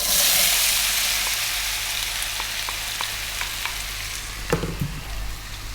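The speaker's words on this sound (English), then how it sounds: "cumin and 5 green cardamoms. Just a few seconds. Then the potato." Potatoes and spices such as cumin and green cardamom sizzle in hot oil over fairly high heat, a loud steady frying hiss with faint crackles and a few pops and clatters toward the end.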